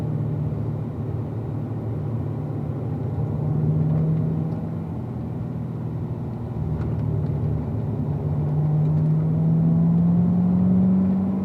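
A car runs a slow cool-down lap on a race track, its engine a steady low drone that swells gently a few times, with no voices.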